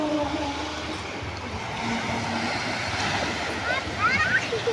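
Water from a stream current flows steadily outdoors, a broad rushing wash over low wind rumble, brighter splashy bursts near the end.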